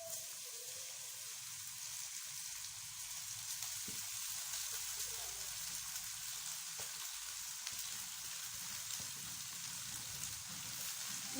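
Rice frying and being stirred in a hot pan for Chinese-style fried rice: a steady, close, crackling sizzle that holds throughout, with soft scraping from the stirring.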